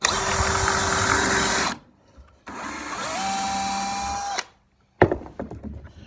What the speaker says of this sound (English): I'm gonna drill a pilot hole and put a screw in it.